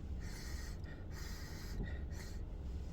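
A person takes a few quick, soft sniffs close to a Dunkin caramel chocolate cold brew topped with foam, faint and breathy against a quiet background.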